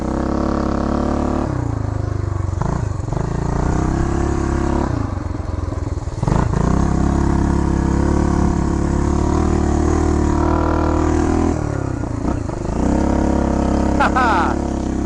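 A 1975 Honda Redline with a Powroll 412cc engine runs close and loud just above idle, its steady throbbing drone rising and falling slightly, with brief clatter and voices over the engine.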